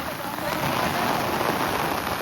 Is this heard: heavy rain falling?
yes